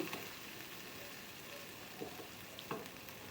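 Spice paste for bata fish jhal sizzles steadily in a pan as it is sautéed, a faint, even hiss broken by a few soft stirring scrapes.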